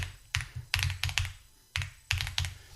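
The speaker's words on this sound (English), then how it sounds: "So in the search, I'm going to type" Rapid bursts of keystrokes on a computer keyboard, typing a search term in quick clustered runs with short pauses between, close and clear with no talking.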